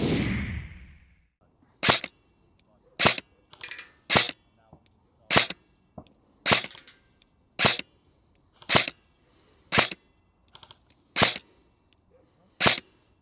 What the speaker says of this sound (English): the effective range test is 5 out of 10 shots onto a torso-sized target at the respective distance